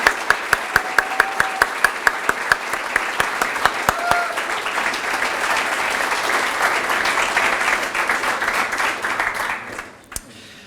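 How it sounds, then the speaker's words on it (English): Graduation audience for new medical residents applauding, rapid overlapping claps from a sizable crowd building into a steady roar for about ten seconds before abruptly dying away, with a few last scattered claps. "Let's give them all a round of applause."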